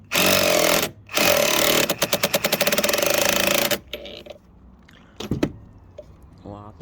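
A loud power drill grinds into brick in long bursts with a rapid hammering rattle, then stops, followed by quieter clicks and handling noises.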